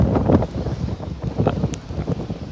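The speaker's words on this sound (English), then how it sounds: "So we're getting some wind." Outdoors during a Wears Valley wildfire, gusty wind buffets the microphone in uneven rushing bursts, loud and close throughout.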